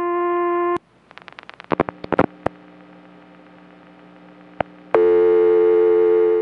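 A steady electronic dial tone from a Nippon PBX cuts off, followed by a series of rapid clicks and pulses and a quiet gap, then a new continuous ringback dial tone starts.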